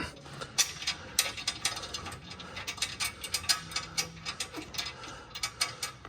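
Hand ratchet tightening bull bar bolts on a Land Rover Defender L663, rapid clicking bursts in quick runs with short pauses, close and fairly quiet.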